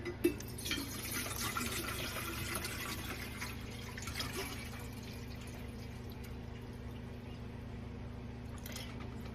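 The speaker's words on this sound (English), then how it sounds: "we are going to fill it up with distilled water" Distilled water steadily pouring into a distiller pot, a continuous filling wash with a brief clink at the start.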